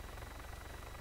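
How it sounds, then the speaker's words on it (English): A helicopter flying right overhead in the video game Arma 3, with a steady rapid rotor thumping that stays faint but constant throughout. "It's right above me, the heli."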